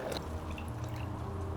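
Homemade cashew milk pours into a blender in a steady, gurgling stream that runs for the full moment, close and fairly loud.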